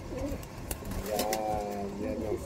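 A young pigeon gives a few soft throaty coos, close by, amid light rustling and handling noise.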